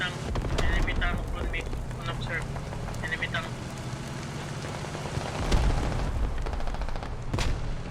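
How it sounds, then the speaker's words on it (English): Bradley autocannon fire in a military combat video game, sharp, moderately distant reports scattered among rain-like crackle and background battle noise, with a heavier thump midway. "That Bradley cannon taking pot shots out here."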